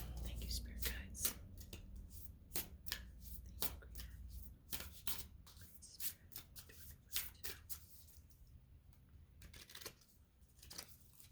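A stiff deck of tarot cards is shuffled by hand, making repeated sharp riffling bursts and slaps in an irregular rhythm, close and fairly quiet, with a voice speaking softly in between.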